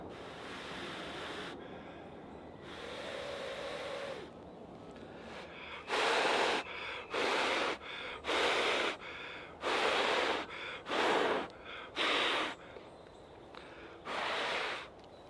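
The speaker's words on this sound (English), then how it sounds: "The more smoke you get, the harder you blow." Repeated strong breaths blown into a smoking wet tinder bundle from a hand drill fire, a series of loud breathy bursts at close range separated by short pauses, with softer breathing and rustle between.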